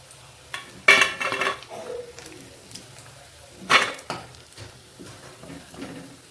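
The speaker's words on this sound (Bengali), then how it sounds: "ভাজা হয়ে গেছে, সব তুলে নিচ্ছি।" Fried chicken pakoras are lifted out of a hot pan. Two sharp metal clinks and scrapes of a utensil against cookware stand out over a faint background of quiet kitchen noise.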